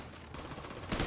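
Gunfire in The Division 2 on PS4, with rapid crackling shots throughout and a louder, heavier burst near the end, with no voices over it.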